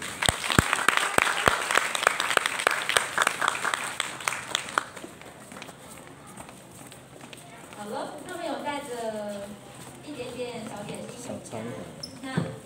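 An audience of parents applauds students performing at a school winter-class showcase, with dense clapping and sharp individual claps for about five seconds. The clapping then fades, and a person speaks over a quiet room.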